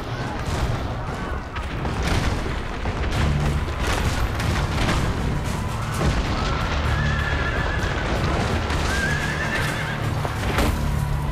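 A horse neighs loudly in a Ubisoft video game trailer, with a whinny standing out against booming battle sounds, hoofbeats and dense background noise.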